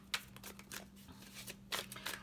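Tarot cards being shuffled by hand in quick riffles and slides, soft and close in a quiet room, with a faint steady hum beneath.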